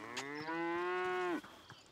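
A single cow moos once, a clear drawn-out low call of about a second, heard close and alone in an outdoor African hill setting.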